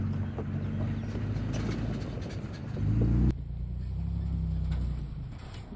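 A Toyota Tacoma pickup fitted with King shocks rolls through a dip in the ground, giving a low rumbling drive with a heavier thump partway through before the rumble settles again.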